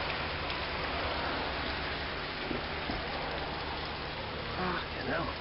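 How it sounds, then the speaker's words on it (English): Rain mixed with hail falls on a driveway, a bin and a roof, a dense steady hiss of drops that stays even throughout, with faint voices talking nearby. "it's been raining here and hail."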